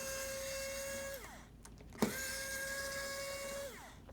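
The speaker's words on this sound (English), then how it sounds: "So you just literally just take out those 3 screws" Electric screwdriver removing screws from a hinge area on an HP 15-DY1043X laptop, a close steady whirring motor that winds down, followed by a short click and another sustained whirring run.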